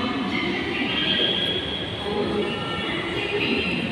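A metro train rolls steadily along the rails at a station platform, a dense continuous rumble with a high squealing wheel tone running throughout, fairly close and moderately loud.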